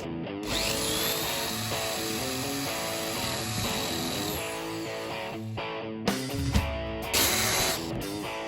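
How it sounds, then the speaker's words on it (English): A power drill bores holes into small parts of a plant prop box, its motor whining steadily for several seconds, then stopping and restarting in shorter bursts, close up and alone. "So we're gonna drill holes in these little parts."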